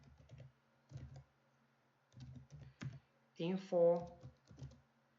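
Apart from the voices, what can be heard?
typing code on computer keyboard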